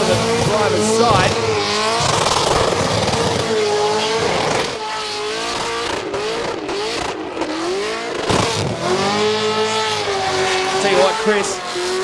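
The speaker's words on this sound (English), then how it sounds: "The Castriani skid, the smoke still pouring off the rear" A supercharged drag car skids with long, wavering tire squeals that rise and fall over a loud engine roar while a commentator talks over it.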